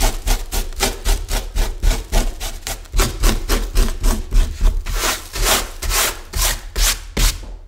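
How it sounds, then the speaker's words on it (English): Tissue rubbed briskly over dried watercolor paper to knock off salt crystals, a steady run of quick, close scrubbing strokes with a papery, gritty texture, no voices. "Now I'm going to take a tissue, just rub that off."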